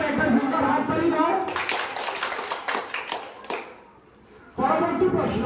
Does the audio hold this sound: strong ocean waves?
no